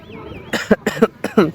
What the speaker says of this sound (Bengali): কাশি হচ্ছে একটু একটু